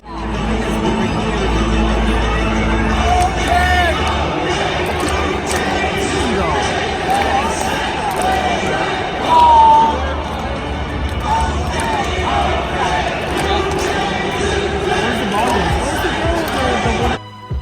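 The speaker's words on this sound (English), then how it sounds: "It was also fun watching the hardcore Blue Jay fans cheer on their team." Crowd of Blue Jays baseball fans at a stadium in Toronto, a dense steady roar of chatter and cheering with a brief louder swell midway, continuous and fairly loud throughout.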